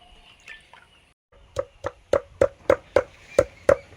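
Durba grass being crushed by hand after washing, a run of about eight sharp, evenly spaced wet pounding thuds that comes after a quiet opening, close and distinct.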